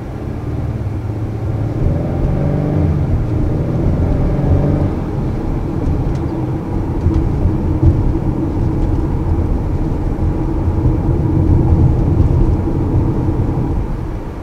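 A 2020 Acura RDX on the road, its steady engine and road rumble filling the cabin at a constant loud level throughout, with no talking.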